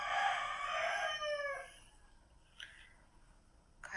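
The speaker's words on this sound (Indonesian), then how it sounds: "Saya melihat seekor ayam jantan." A rooster crows loudly and close by for about a second and a half, the call falling away at the end, followed by a few faint short clucks; no one speaks.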